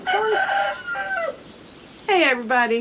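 A rooster crows nearby, loud and drawn out, in two calls separated by a pause, with softer clucking-like calls between.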